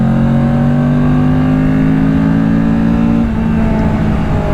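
A Kawasaki Ninja 650 motorcycle engine holds a loud, steady drone close by, its pitch rising gently before dropping suddenly as the throttle eases near the end.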